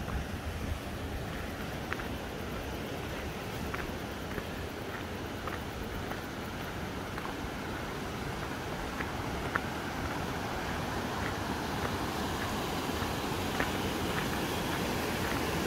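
The Emme river, swollen where a stream joins it, rushes in a steady broadband roar of flowing water with faint wind noise, continuous and close, with no voices.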